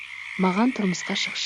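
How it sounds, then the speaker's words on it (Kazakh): Frogs croak in a children's picture-book reading, a short, throaty run of voiced calls that overlaps a narrator's speaking voice. "Бұл бақалардың махаббат әндерінің үлкен сайысы."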